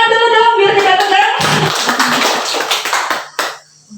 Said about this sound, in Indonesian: BSE tepuk tangan dulu dong biar tidak tegang.